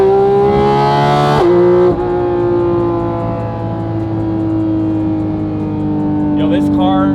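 A Porsche GT4 RS engine revs high and loud, its pitch dropping sharply as it comes off the rev, then settling into a sustained lower drone that slowly sinks.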